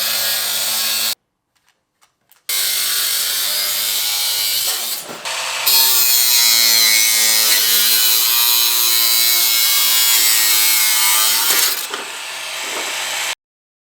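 Power tool cutting a 50 by 20 aluminium sheet for an E30 strut tower job, a loud steady grinding rasp that runs for several seconds, stops briefly, then resumes continuously until a short pause near the end.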